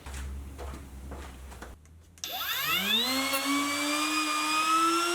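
A battery-powered OZITO palm router hums faintly, then its motor spins up with a rising whine that settles into a steady, high-pitched drone, set to route an inlay in hardwood, with no voices.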